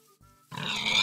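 Pigs in Minecraft giving a short grunting oink after a brief faint tone, close and moderately loud, lasting about a second.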